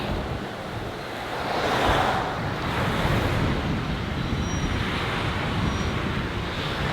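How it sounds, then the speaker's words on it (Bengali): Strong wind roars and buffets the microphone on a cloudy street in Kyrgyzstan in a constant low rumble, swelling slightly at moments, with no talking. "প্রচুর বাতাস এবং মেঘলা ওয়েদার"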